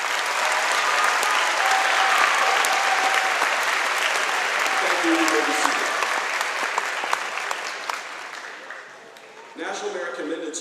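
A school assembly audience applauds honored academic students with dense, sustained clapping for about nine seconds, fading before a voice addresses the crowd at the end.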